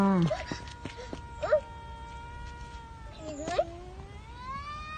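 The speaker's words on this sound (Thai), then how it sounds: "แมวมีสองตัว" Two cats meowing on a street in Thailand, several drawn-out meows with rising and falling pitch, fairly close, with a voice and background chatter.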